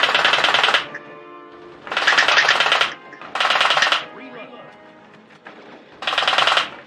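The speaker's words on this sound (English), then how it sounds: "Machine gun." Machine gun fire from a lightgun shooter played over online netplay, sounding in four loud rattling bursts of about a second each, separated by short pauses with faint background sound.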